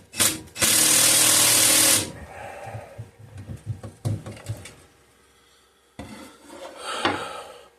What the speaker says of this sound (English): Now let's see if I can hold tension on here and tighten this down at the same time.